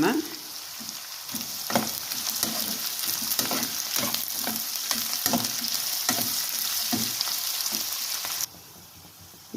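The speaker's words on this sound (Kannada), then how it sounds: "ಈರುಳ್ಳಿ ಚೆನ್ನಾಗಿ ಫ್ರೈ ಆಗಬೇಕು ಇವಾಗ ಕರ್ಬೇವಿನ ಸೊಪ್ಪು ಹಾಕೋಣ" Sliced onions and curry leaves frying in a pan for dill leaf rice, a loud continuous sizzle with repeated spatula scrapes and stirs nearby, cutting off abruptly near the end.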